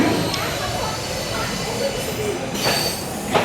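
Passenger train at Coimbatore station, a broad steady rumble of wheels and carriages with a faint squeal, crowd noise and indistinct voices mixed underneath, a brief metallic clank near the end.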